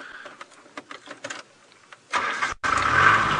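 A safari vehicle's engine cranks and turns over during a sunrise drive, with scattered faint clicks and rustles first, then a loud burst of starting noise, a brief gap, and a steady running rumble.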